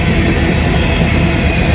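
A big BNSF freight train rolls past at close range, a loud continuous roar of wheels and rail noise with no breaks.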